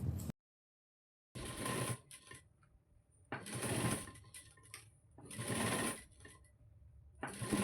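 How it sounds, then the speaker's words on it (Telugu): Electric sewing machine stitching a cut work blouse, whirring in bursts separated by short pauses as the fabric is turned, close and fairly quiet, with no talk. "ఇప్పుడు ఈ కట్ వర్క్ షేప్ దగ్గర కూడా మనం ఈ షేప్ తిప్పుకుంటూ స్టిచ్ చేసుకోవాలి"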